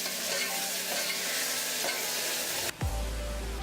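Ginger garlic paste stirred and sautéing in a pan for mutton curry, a steady close sizzle with faint stirring scrapes, then a sudden clunk and low hum near the end.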